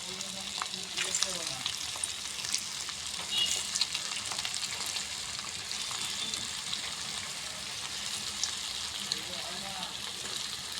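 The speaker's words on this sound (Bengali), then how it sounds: "তেলটা আমার গরম হয়ে গেছে এরপর একে একে এর মধ্যে স্ন্যাক্সগুলোকে আমরা দিয়ে দেবো" Flattened-rice snacks deep-fry in hot oil in a wok, giving a steady, dense bubbling sizzle with scattered pops and crackles throughout and no voices.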